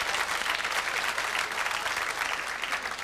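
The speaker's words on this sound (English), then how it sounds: "Thank you for your applause." A theatre audience at a Bob Monkhouse comedy show breaks into steady, full applause, dense clapping at a constant level throughout.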